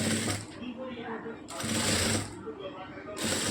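Sewing machine stitching the back neck of a blouse, a close rapid mechanical chatter in three bursts separated by short pauses, with a voice speaking over it.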